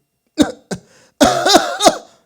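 A few short coughs close to the microphone: two quick single coughs, a pause, then a rougher burst of coughing.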